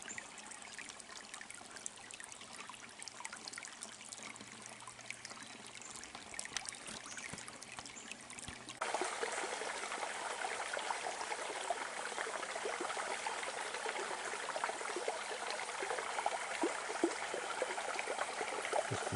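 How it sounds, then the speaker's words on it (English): Water flows over a track crossing of Sharpe's Creek in Barrington Tops National Park, a steady soft trickling and babbling that grows noticeably louder and brighter partway through as the creek is approached, with no voices. "Just another crossing of Sharpe's Creek on the track."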